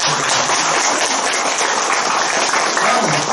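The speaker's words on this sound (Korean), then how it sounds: "박수 한번 치세요" Audience applause at a Buddhist Sunday dharma service, a dense, continuous wash of clapping from a gathered congregation, loud and steady for the whole stretch with some voices mixed in.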